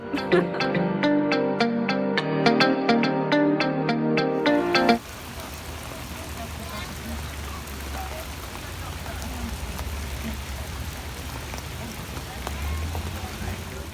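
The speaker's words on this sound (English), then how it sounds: "Day 3, still raining." Steady rain at a KOA campground near Washington DC, a constant broadband hiss that takes over once a few seconds of music stop and then continues evenly to the end.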